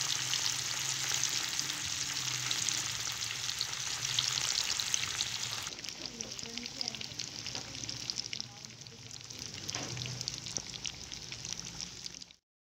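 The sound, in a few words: fish pieces frying in hot oil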